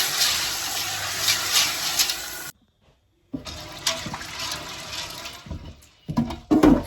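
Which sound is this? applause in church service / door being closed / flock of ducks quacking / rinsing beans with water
rinsing beans with water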